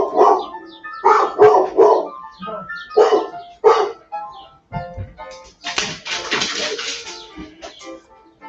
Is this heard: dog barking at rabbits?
yes